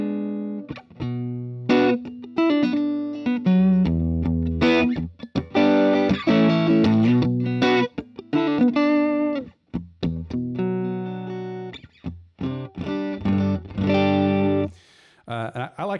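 A Godin Multiac Steel acoustic-electric guitar plays through a Line 6 Helix, chords and single notes in an amplified, slightly distorted, hollow-body-like tone, with plucked phrases separated by brief gaps.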